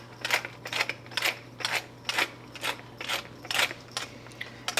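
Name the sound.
grinding fresh cracked pepper from a pepper mill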